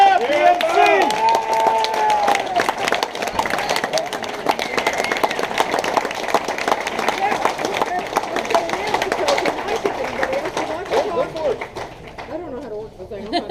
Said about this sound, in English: What about a round of applause for Bob?